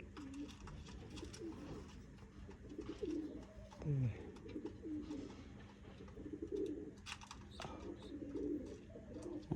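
Pigeons kept in a loft coo repeatedly in low, throaty rolling calls close by, with soft murmuring voices and light rustling in the background.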